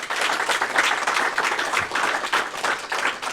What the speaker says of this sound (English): I think an applause for you guys